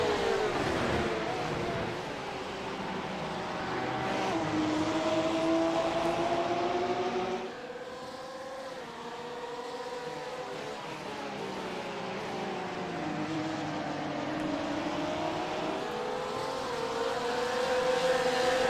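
Porsche GT3 race cars at Catalunya scream past in a close pack, their engine notes rising and falling as they shift through gears. The cars sound loud and near and run continuously.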